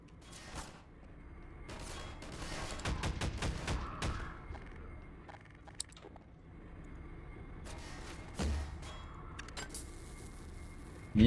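Bursts of gunfire from a favourite weapon in the video game Half-Life 2 crack out in rapid clusters, then ease into quieter mechanical clicks and movement before a loud blast at the end.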